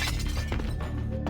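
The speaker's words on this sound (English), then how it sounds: "we're gonna smash this glass here." Glass smashing inside a museum in a video game: a single sharp shatter with breaking shards over a dense, droning game background.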